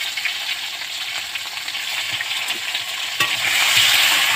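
Potatoes fried until reddish sizzle loudly in a pan as tomato is added, a continuous crackling hiss with occasional stirring clicks, growing slightly louder toward the end.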